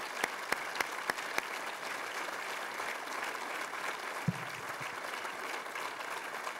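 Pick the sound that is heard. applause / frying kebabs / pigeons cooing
applause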